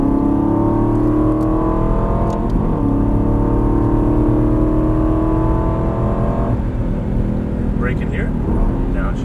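An Aston Martin GT's engine pulls steadily on a track as the driver squeezes the throttle out of a corner, a loud rising whine heard from inside the car, with an instructor speaking over it.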